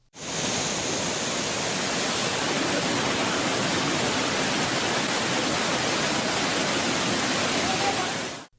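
Suruli waterfall in flood after heavy rain, a loud, steady, dense roar of rushing water that holds constant and close throughout.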